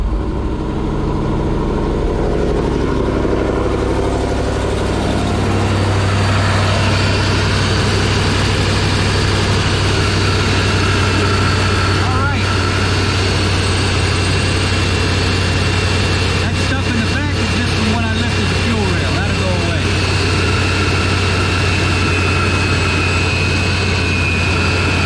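A vehicle engine idles steadily after a fuel injector repair, a loud continuous low rumble running throughout with a person talking over it at times.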